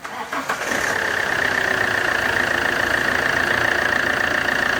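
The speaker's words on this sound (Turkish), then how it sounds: "Araca marş yaptık." A Fiat Doblo 1.9 JTD diesel engine cranks briefly, catches, and settles into a loud, steady rattling idle, close by with no voices.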